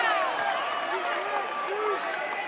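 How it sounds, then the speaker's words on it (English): Rowdy crowd at a college basketball game, Old Dominion versus Southern Miss, roaring steadily with loud, dense noise during free throws, with shouts and whistles rising through the din. "I heard the crowd rowdy as Southern Miss is at the line for free throws"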